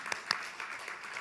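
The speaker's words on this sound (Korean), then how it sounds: "여기 여자분들에게 박수 한번 쳐주세요" A church congregation breaks into a brief burst of applause, many hands clapping together in a dense, short patter at moderate distance.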